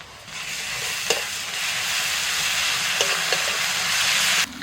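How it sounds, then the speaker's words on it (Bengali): Ginger-garlic paste goes into a pan of fried onions and spits into a strong, continuous sizzle, with a few sharp clicks of stirring against the pan along the way. "পেঁয়াজটা ভাজা হয়ে গেছে দিচ্ছি আদা রসুন বাটা"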